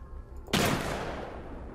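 Shotgun firing in the video game Flatwoods: a single loud, sharp blast that rings out and decays over about a second, with no talking.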